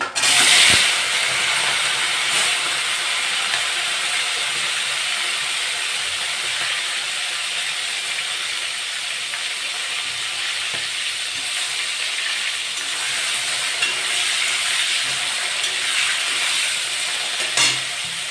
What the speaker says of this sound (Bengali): কড়াটা গরম হয়ে গেছে আমি এবার সরষের তেল দিয়ে দেবো গরম হয়ে গেছে চিংড়ি মাছগুলো ভেজে নেব